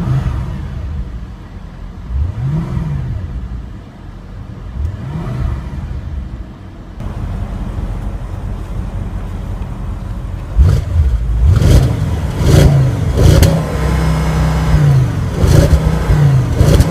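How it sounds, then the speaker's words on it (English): A 2014 Audi S6 Quattro with S Tronic transmission starts up and idles, then revs repeatedly in sharp rising bursts, loud and close with no talking. "Now let's jump into the driver's seat, start it up and see how it sounds."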